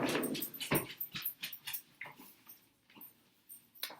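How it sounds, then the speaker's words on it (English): A pet dog indoors lets out a series of close whimpers and short yips, rising and falling in uneven bursts with brief pauses between them. "That's my dog."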